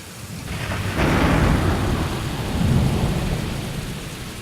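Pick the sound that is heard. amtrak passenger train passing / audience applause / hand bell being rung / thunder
thunder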